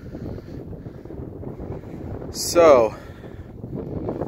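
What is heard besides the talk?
wind blowing on microphone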